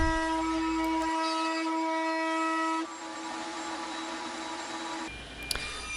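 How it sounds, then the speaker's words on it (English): A router table fitted with a trimming bit cleans up wood pieces, giving a steady, loud whine with a strong hum that changes pitch partway through as the cut loads and eases, with no one talking. "now I'm just cleaning them up on the router table with a trimming bit"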